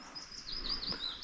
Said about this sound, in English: green finch.